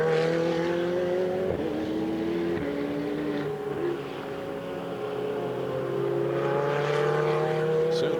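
A Ferrari Challenge race car on its cool down lap at Circuit of the Americas, a steady engine drone with tones sliding up and down through shifts, heard from a moderate distance with a faint commentator voice.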